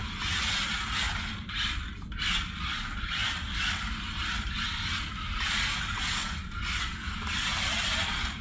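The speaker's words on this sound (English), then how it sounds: "Let's go check out the running of this little vehicle." A tiny 1:43 scale Enoze RC drift car runs at full speed across carpet, its small motor and gears giving a dense, steady whirring buzz that holds close and loud throughout with slight wavering.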